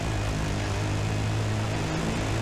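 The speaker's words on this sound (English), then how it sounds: "This helicopter is just hovering for no reason." A helicopter hovers over a desert rally stage, its rotor and engine making a steady, loud, continuous low drone with a throbbing hum throughout.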